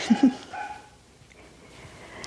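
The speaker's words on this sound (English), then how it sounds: "That's my dog saying Happy New Year." A dog gives two short barks close by, then falls quiet, leaving faint room noise.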